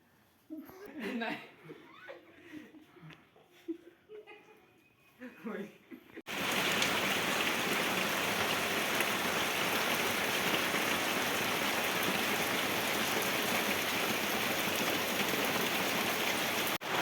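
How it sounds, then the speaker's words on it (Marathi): A light rain shower falls steadily on a village morning in rural Maharashtra, a dense even patter holding constant for about eleven seconds after earlier stretches of people talking and chuckling. "तेव्हाच पावसाची सर आली थोडीशी आले जास्त मोठी नाही"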